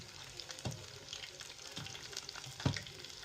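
Pancake-battered red Thai chicken frying in oil that is too hot, a steady close sizzle broken by a few sharp crackling bursts and the clatter of pieces being moved around the pan.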